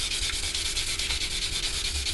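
A Corsair sanding sponge rubs steadily over dried acrylic paint on a 1/72 Revell Lancaster plastic model, a continuous close, soft scratchy scrubbing with a faint back-and-forth rhythm, no voices.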